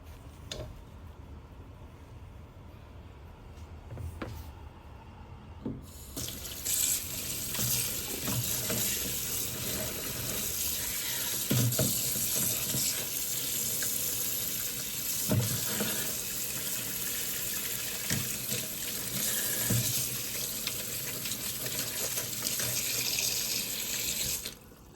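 Tap water runs steadily into a sink as cubed beef tendon is rinsed, a constant rushing stream with occasional splashes and knocks, fairly close and alone without talk.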